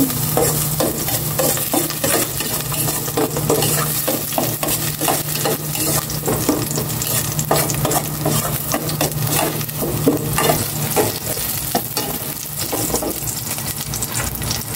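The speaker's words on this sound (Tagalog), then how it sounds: "Gisa ko na itong bawang." Garlic sautéing in cooking oil in a pan, a steady close sizzle with frequent stirring scrapes running throughout, no voices.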